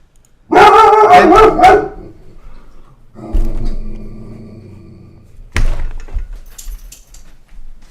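Dogs bark in a quick, loud cluster of yelps, followed by lower rumbling noise and a single sharp knock, fairly close.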